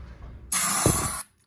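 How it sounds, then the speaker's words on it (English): A single short burst of starting fluid sprayed from an aerosol can into the engine of a long-idle zero-turn mower, a close sharp hiss lasting under a second. "There's my starting fluid. We'll spray some of this in here."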